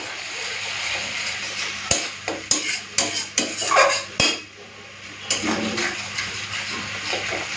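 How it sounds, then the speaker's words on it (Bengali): Masala with turmeric powder, salt and a splash of water is sautéed in a pan: a loud run of clattering spoon strikes and scrapes over a soft sizzle, then quieter stirring. "এরপরে মশলাটাকে কষাবো।"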